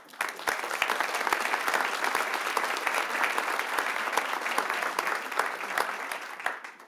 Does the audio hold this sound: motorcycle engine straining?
no